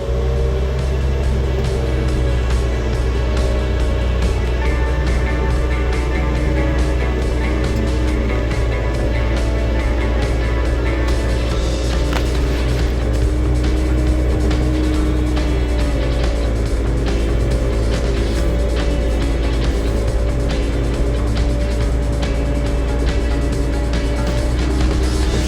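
A telehandler engine running steadily while the machine drives, a loud continuous diesel drone with a deep low rumble, unbroken for the whole stretch, with no voices.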